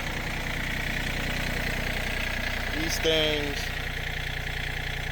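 A John Deere tractor engine idles nearby in a yard with a steady, even low rumble, while someone talks briefly over it near the middle.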